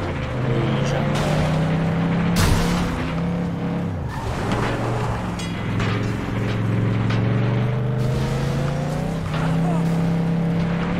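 A car in the video game FlatOut 2 drives hard with a loud, steady engine drone shifting pitch, punctuated by sharp crash impacts and tire noise, while someone talks over it in French.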